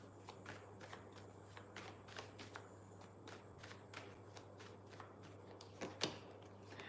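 Tarot cards being shuffled by hand, a run of quiet, rapid riffling flicks in uneven bursts with one sharper snap near the end, alone against faint background hum.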